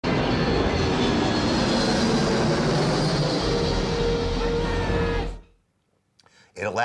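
Airplane engine roaring steadily and loud in a Bruce Willis film sequence about saving an aircraft, a dense continuous drone that cuts off abruptly near the end before a brief burst of other noise.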